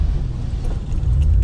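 Heavy low rumble of a vehicle crawling over rough off-road terrain, with a steady engine drone and jolting bumps, close and continuous, louder near the end.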